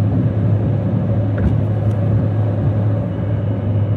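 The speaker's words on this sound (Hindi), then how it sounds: "ये देखो सीएनजी पे ही चल रही है" A Tata Nexon CNG SUV running on CNG cruises along a highway, giving a steady, loud low engine and road rumble heard from inside the cabin, with no talk.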